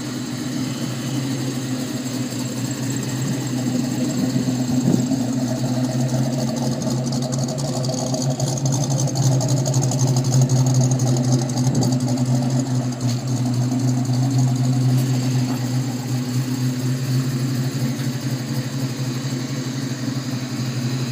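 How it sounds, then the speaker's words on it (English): A 302 V8 idling steadily in a Foxbody Mustang, a loud, even, rumbling drone with a slightly uneven lope that holds throughout, with no talking. "it's a 302, of course, but they pulled it out of a a Foxbody"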